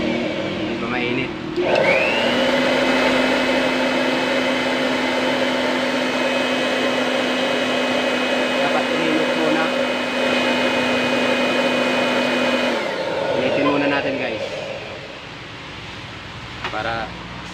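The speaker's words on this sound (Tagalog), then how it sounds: "Ito yung blower niya." Electric blower fanning a homemade used-oil burner stove: a steady, loud whirring hum that starts about two seconds in, holds evenly for roughly eleven seconds and then stops.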